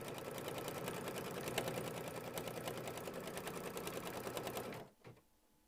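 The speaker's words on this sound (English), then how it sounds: "This is going to stitch the placement line for my L." An embroidery machine stitching the placement line for a letter L on a quilting project, a rapid even mechanical whirr of needle strokes running steadily before stopping abruptly.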